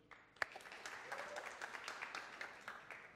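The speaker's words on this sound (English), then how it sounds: "I want a show of clapping." A conference audience at a medical lecture claps to vote on an answer, producing a brief, fairly faint burst of scattered applause with one sharp opening clap.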